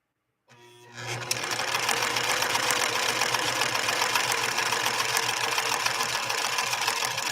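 A White Model 742 sewing machine running an overlock stitch on satin, starting up after a moment of quiet and then settling into a loud, rapid, steady mechanical whir with fine rhythmic ticking throughout.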